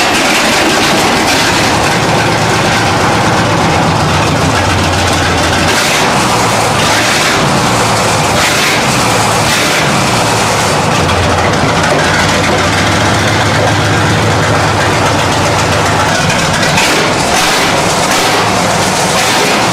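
A 1940s 59.3-liter inline-8 gasoline engine with 32 spark plugs, four carburetors and two distributors, once used to pump water in Danville, Illinois, runs with a loud, continuous heavy low rumble and steady mechanical clatter throughout, with no talk.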